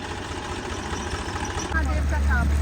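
A tractor idles nearby during flood relief work in Punjab, a low, steady engine rumble that grows louder partway through, with people talking over it.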